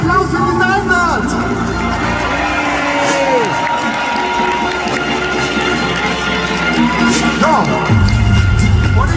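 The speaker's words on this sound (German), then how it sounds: "Dafür schon mal einen dicken Applaus für diesen Einsatz!" An arena crowd cheers and applauds at a freestyle motocross show in Dortmund's Westfalenhallen, a steady wash of noise running the whole time with an announcer talking over it.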